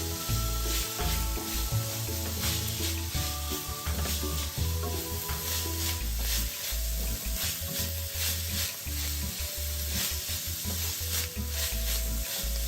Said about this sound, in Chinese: 这时候将200克剁碎后的梅菜加入一起炒香。